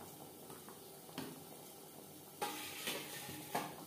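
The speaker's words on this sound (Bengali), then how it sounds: "আলু চিকেন গ্রেভির সাথে বেশ ভালো করে মিক্সড করে দেব।" Potatoes and chicken being mixed into gravy in a pan, giving a soft sizzle with a few scraping stirs, quiet and close, no voices.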